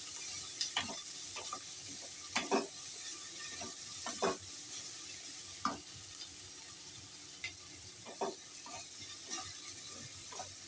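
Sliced onions sizzle quietly in a pan with salt for a Bengali egg omelette curry, while a spatula scrapes and clicks against the metal in scattered strokes over a steady soft frying hiss.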